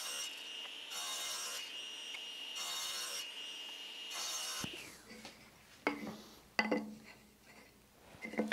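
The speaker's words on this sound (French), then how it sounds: "Puis je déligne tout le bois à 25 mm" A table saw whines steadily while ripping wood to 25 mm in several pulsing passes, then winds down, followed by scattered knocks and handling noises nearby.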